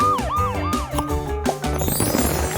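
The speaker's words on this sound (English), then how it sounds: "Oh, this is the police car from our puzzle." A toy police car siren wails in a rising and falling electronic pattern, loud and close, with clattering knocks and a burst of noisy jingle near the end, during a kids' vehicle puzzle.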